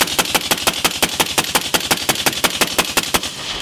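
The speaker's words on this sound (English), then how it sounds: "I want rounds coming out the other side of the vehicle." Gunfire into a vehicle body: a rapid, evenly spaced string of loud, sharp reports, about five or six per second, running without a break.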